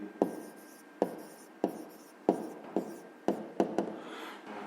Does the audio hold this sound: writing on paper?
yes